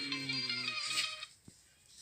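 A mobile phone rings with a bright electronic ringtone melody for about a second, then stops, followed by a short soft knock in a quiet room.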